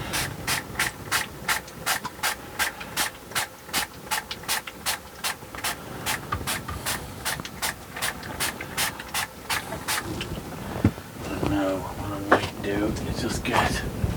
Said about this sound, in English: Now what I'm going to do is give this a spray